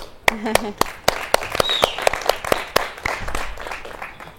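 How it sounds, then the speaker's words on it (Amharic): At a televised singing competition, sharp hand claps land at a steady, regular beat while a voice talks over them. "ማጨብጨብ ብቻ እንፈልገው።"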